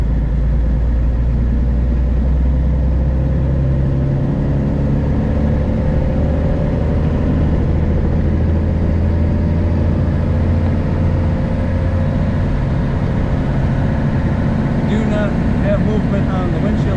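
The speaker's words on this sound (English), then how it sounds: "Very nice running Chevrolet." A 1929 Chevrolet AC International two-door sedan drives down the road with a steady, low engine rumble and road noise close by. Someone talks over it.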